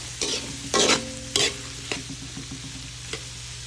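Ingredients for papaitan sauté in a pan with a soft sizzle, broken by several sharp scrapes and clatters of a spoon stirring against the pan at an irregular pace.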